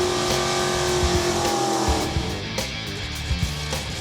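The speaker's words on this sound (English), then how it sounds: "Mini burnout, mini burnout. Nice little burnout, though." A drag racing car doing a short burnout, loud engine roar with tire squeal that eases off midway into rough idling and revs, close by.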